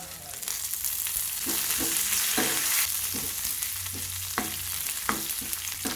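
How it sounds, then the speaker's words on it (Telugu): Garlic, cumin, curry leaves and dried red chillies sizzle in hot oil, a steady close frying hiss broken by repeated scrapes and knocks of a stirring spoon, with no talking. "బాగా వేగనివ్వాలండి కరివేపాకు వేగినాయండి"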